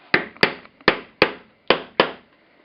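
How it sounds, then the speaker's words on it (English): A three-prong thonging chisel is struck again and again to punch slits through leather for a handmade shoe, six sharp, close mallet knocks at an uneven, unhurried pace with short quiet gaps between them. "use my three-prong punch, my thonging chisel, and go along here"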